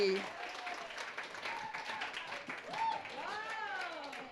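A church congregation applauds after a dance performance at a Mandarin Sunday worship service, with steady clapping running throughout and voices and cheers rising over it.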